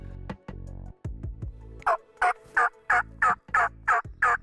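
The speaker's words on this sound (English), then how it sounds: "Before long, that tom started gobbling" Wild turkey tom gobbling at dawn in Ontario, a run of about eight loud, rapid rhythmic gobbling bursts after some lower calls, clear and fairly close.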